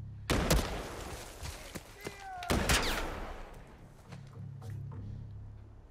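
Gunfire in The Last of Us Part I: several loud sharp shots, a close double blast near the start and another burst midway, with scattered thuds and low rumbling ambience between them.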